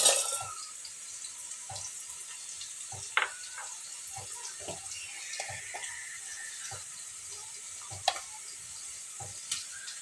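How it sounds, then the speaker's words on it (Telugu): Ridge gourd pieces frying in hot oil, a quiet steady sizzle with occasional light clicks and taps from stirring, no one speaking. "వీటిని నూనెలో ఫ్రై చేసేసుకుందాం."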